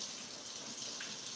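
Steady gush of tap water pouring over canned beans in a strainer, a constant close hiss and splatter with no pauses.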